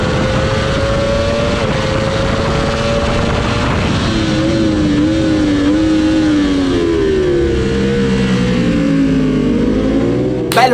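Race car engines in a sunset racing video game roar steadily through an overtake, pitch sweeping up and down with gear changes, loud and continuous throughout with no talk.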